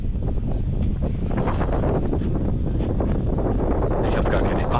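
Steady, loud seaside wind in Progreso buffeting the microphone, a constant rumbling roar with no letup, and a brief hissy rise near the end.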